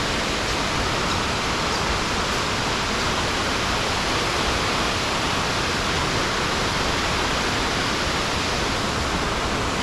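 A waterfall in Litchfield National Park roars as a dense, unbroken wash of rushing water, loud and close, with no voices over it.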